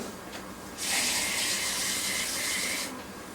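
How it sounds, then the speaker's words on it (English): Water runs from a tap during a cooking class, a steady close gush lasting about two seconds before shutting off, with no talking over it. "I just add a little bit more water to this"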